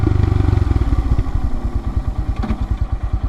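A 2022 Royal Enfield Himalayan motorcycle fitted with a Hitchcocks carburetor conversion idling low, its single-cylinder thump a close, even, loping beat that slows slightly and stays steady.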